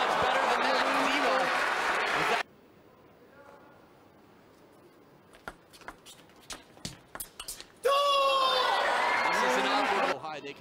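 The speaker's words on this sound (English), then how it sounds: "They can scream as loud as they want." A crowd at a 2017 World Tour Grand Finals men's singles quarterfinal table tennis match cheers and screams loudly, breaks off into quiet with scattered ball clicks during a rally, then erupts again.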